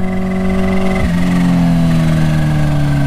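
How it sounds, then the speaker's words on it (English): Kawasaki Ninja H2 motorcycle tuned to 300 whp, its supercharged engine loud and close, holding a high rev that drops and settles into a lower steady drone over about three seconds. "This bike makes so many cool noises."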